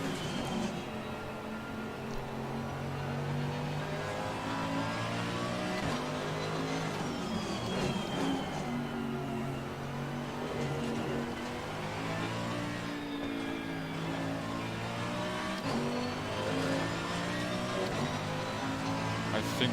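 A race car engine revs hard at the Nürburgring in ACC as the car slides in power oversteer, a steady loud whine that rises and falls through the gears, with someone talking briefly over it.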